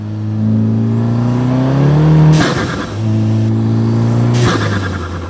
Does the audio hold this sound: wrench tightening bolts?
no